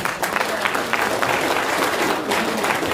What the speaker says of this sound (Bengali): আমাদের মরিঙ্গর জন্য একটা যোদ্ধা হাততালি